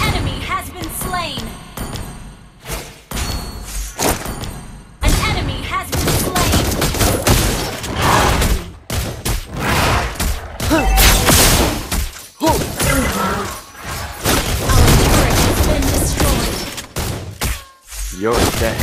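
A Mobile Legends match, the marksman hero Granger firing his gun: loud, close bursts of rapid shots and heavy impact thumps in clustered volleys, with a character's voice lines and bright game chimes mixed in.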